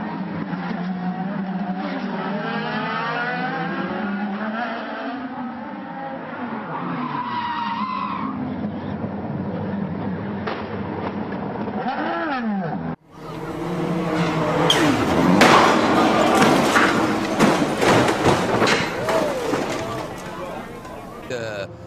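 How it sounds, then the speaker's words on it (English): Porsche race car skidding in a crash, a long tire squeal and engine drone under excited race commentary, followed by a louder, rougher stretch of scraping, roaring noise. "Alors il y a l'accident terrible, le tonneau pour la Porsche"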